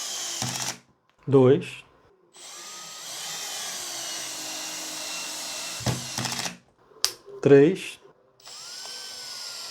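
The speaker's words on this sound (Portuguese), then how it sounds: "é inserir esses parafusos aqui nesta madeira, utilizando o sistema de embreagem, ou seja, o sistema de torque." Cordless screwdriver driving screws into wood on a low clutch torque setting, with two short buzzing bursts that stop abruptly as the clutch slips, between stretches of someone talking.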